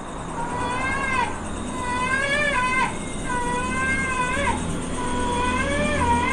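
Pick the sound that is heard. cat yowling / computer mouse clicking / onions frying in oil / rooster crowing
cat yowling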